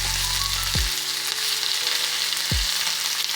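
Half-cooked potato French fries bubble in hot oil for restaurant-style fries, giving a loud, steady, dense sizzle with no pauses. A couple of brief low thumps sit under it, and no one speaks.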